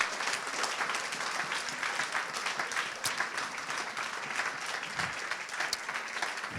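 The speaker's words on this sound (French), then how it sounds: "Est-ce qu'on peut applaudir le roi des rois?" A church congregation applauds steadily throughout, dense sustained clapping filling the whole room with no pauses.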